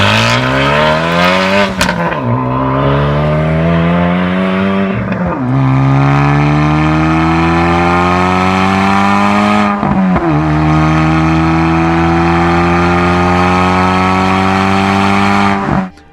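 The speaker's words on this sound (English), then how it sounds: "So here is the sound of a Type R." A Honda Civic Type R inline-four, 11th generation, revs hard and loud, climbing through three rising pulls with brief dips between gear shifts, then holding a sustained high howl before cutting off.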